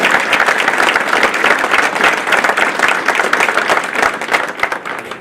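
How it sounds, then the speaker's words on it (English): Audience applause for high school athletic Hall of Fame inductees, a dense, steady burst of many hands clapping that stays loud throughout before easing slightly at the end. "Let's give them a round of applause for all they do."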